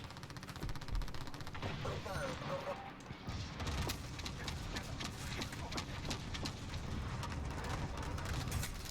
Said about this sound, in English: I'm immediately getting shot at by 4 different guys